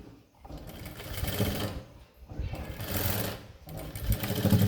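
Sewing machine stitching a large basting stitch for hemming a semi high neck blouse, with three loud close bursts of rapid whirring separated by short pauses.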